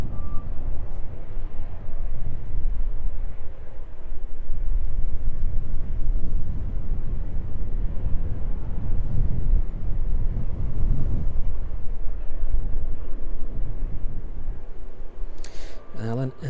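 Ryanair Boeing 737-800 at East Midlands Airport gives a loud, continuous jet engine roar with a rumbling low end that swells through the middle and fades toward the end.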